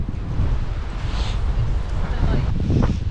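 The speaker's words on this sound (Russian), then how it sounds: "какой ветер, деревья вовсю" Strong wind blows through trees outside the Saatchi Gallery in London, a steady low roar that buffets the microphone throughout.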